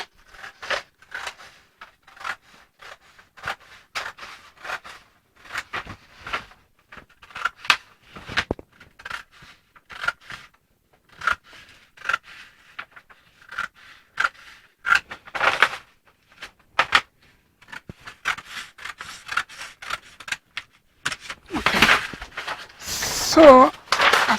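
Scissors snipping through a paper pencil skirt pattern, a long run of short, close, irregular crisp cuts, with someone talking over them.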